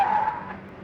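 A car skids to a stop as it arrives in a residential colony, a short loud tire screech that fades over under a second with no talk.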